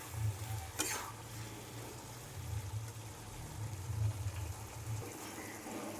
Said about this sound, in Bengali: মাছগুলো সবজির সঙ্গে মিশিয়ে নিচ্ছি।